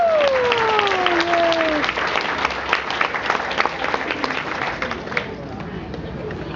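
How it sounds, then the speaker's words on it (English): Reunion audience at a Chicago high school class gathering breaking into applause, a loud wash of many hands clapping that swells and then slowly thins, with a voice speaking over the start. "I think we should give a nice round of applause to Sandy Krause for her artwork on the cover"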